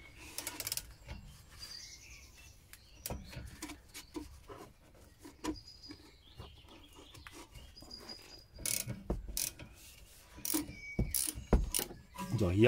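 A ratchet clicks in short irregular bursts, loosening a 10 mm bolt on the rear brake of an Opel Astra J, with scraping and clattering of tools in between and quiet gaps; no one speaks.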